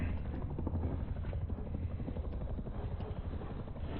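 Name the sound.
patrol helicopter in video game Rust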